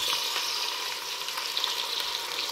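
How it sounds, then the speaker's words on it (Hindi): Tomatoes and mixed vegetables fry in a pan, giving a steady, close crackling sizzle with faint stirring scrapes and no voices. "थोड़ी देर फ्राई करेंगे। फ्राई करने के बाद हम इसमें मसाले ऐड करेंगे।"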